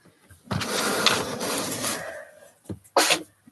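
A single loud sneeze bursts out nearby indoors, followed by a shorter second sneeze or sniff a moment later.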